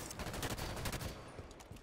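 Rapid automatic gunfire rattles in a Halo 5 Guardians SWAT match, a loud dense burst of close shots that thins slightly near the end.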